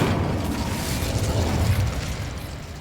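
Sustained roaring rumble of the Incendio fire spell in Hogwarts Legacy, a loud dense blast that holds for a few seconds and slowly tapers, with no talking over it.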